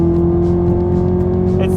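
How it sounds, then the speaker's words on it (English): Chevrolet Camaro ZL1 in track mode at Willow Springs, engine holding a loud steady high rev with a strong sustained tone throughout, voices talking over it. "we're in track mode here in this Camaro, so it's allowing us to rev up higher"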